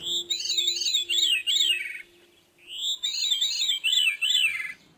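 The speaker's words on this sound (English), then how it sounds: "So here's a song of a veery," A veery thrush sings two phrases of its song, each a clear, fluty, spiralling series of descending warbled notes with an airy, reverberant quality, the two phrases separated by a short pause.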